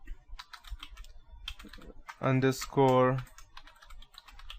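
A command is typed in Kali Linux on a computer keyboard, a rapid, close run of light key clicks that continues while a person briefly speaks partway through.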